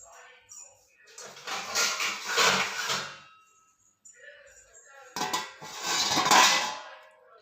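A knife cuts through a muskmelon in a kitchen in two bursts of scraping, crunching slicing separated by a quiet pause, close to the listener.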